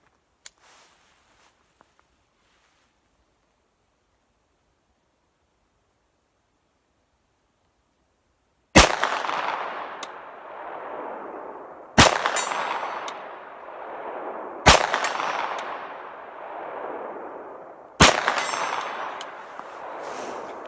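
Four loud, widely spaced shots from a Foxtrot Mike AR9 carbine fired at a steel target about 85 meters away, each a sharp crack with a ringing decay, after a long quiet stretch.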